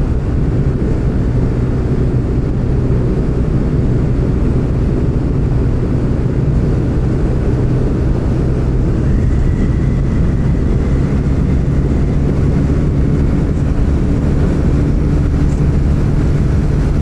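A Honda Winner X150 motorcycle engine drones continuously while riding on a road trip, a steady loud hum mixed with rushing wind, with no pauses across the ride.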